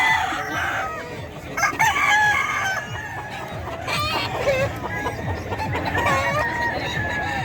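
Chickens and roosters at a poultry market in Bocaue crow and cluck repeatedly, several birds overlapping in a busy, fairly loud chorus with no talk.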